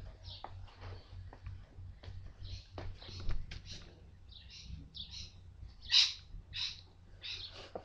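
Bird calls ring out in short, repeated high chirps and whistles, sharpest around the middle, over a low steady hum, with a little background noise.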